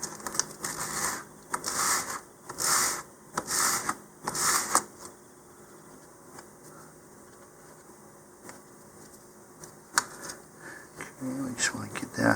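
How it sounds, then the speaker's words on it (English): A model rocket part is sanded by hand in a series of rhythmic rasping strokes, about five close bursts in a row, followed by scattered faint scrapes and taps. "I need to sand this just a little bit more"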